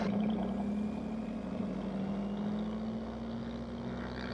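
Aircraft engines on the plane Silver Bullet run up for takeoff, a loud, close, continuous drone whose pitch climbs slightly as power builds.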